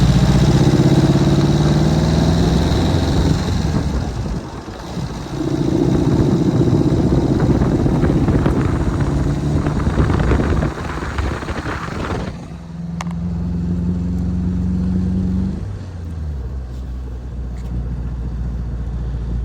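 A 1952 MG TD driving down a street, its engine humming steadily under rushing wind, fading briefly near the end as the car passes and settles back to a lower drone, with no voices.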